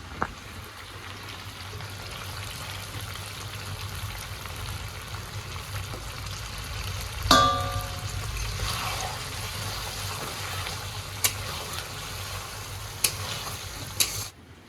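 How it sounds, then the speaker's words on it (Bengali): Water splashes into a hot pan of sizzling baim eel fish curry midway through, a sudden loud gush that settles back into a steady fry with a few sharp ticks near the end. "মাছটা ভালো করে কষে নিয়েছি এখন একটুখানি জল দিয়ে দেবো"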